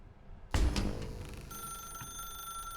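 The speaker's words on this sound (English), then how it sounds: "Now pick up the phone, said the bucket." Telephone ringing in the video game The Stanley Parable: Ultra Deluxe, a sudden bright ring that starts sharply and then holds as a steady sustained trill, alone and moderately loud.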